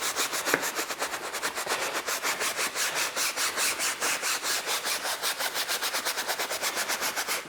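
Rapid back-and-forth brushing as cleaner is worked lightly into the Alcantara interior of a Mini Cooper F56 JCW, a steady close scrubbing rasp with fast regular strokes throughout and no talking.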